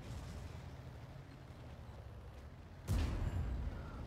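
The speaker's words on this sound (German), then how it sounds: "beide Artis vom Gegner schießen unseren Heavy kaputt" Artillery fire in the tank game World of Tanks, with enemy artillery shelling a heavy tank: a low, steady rumble of battle noise, then one sudden booming impact near the end, fairly quiet overall.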